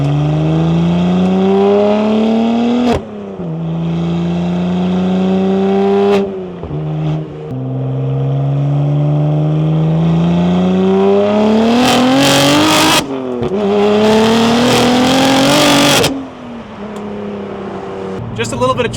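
A BMW M2 engine revs hard and drops through gears, with throttle blips and crackling exhaust on each downshift, loud and close.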